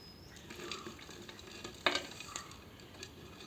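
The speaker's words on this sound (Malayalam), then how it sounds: "ഇനി നമുക്ക് ഈ 2 ബോട്ടിലും പോട്ടിംഗ് മിക്സ് നിറയ്ക്കാം." Potting mix poured into two bottles while repotting an Adenium plant gives a soft, steady gritty rustle, with one sharper scrape near the middle and no talk.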